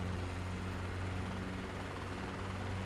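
A helicopter engine in a video game drones steadily, a constant low whirring hum with a dense hiss above it, unchanging throughout and with no talk.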